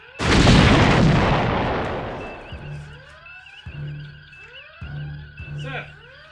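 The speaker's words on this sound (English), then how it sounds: "we're taking fire!" Starship weapons fire in a Star Trek space battle: a loud booming blast opens and slowly decays, followed by repeated sweeping energy-beam zaps and rumbling pulses.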